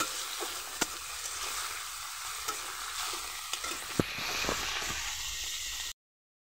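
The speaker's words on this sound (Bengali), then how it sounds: "চিংড়ি মাছটা বেশি কড়া করে ভাজবো না, হালকা করে আমি ভাজবো।" Prawns fry lightly in hot oil in a pan, a steady close sizzle broken by a few sharp clicks and scrapes of stirring before the sound abruptly stops.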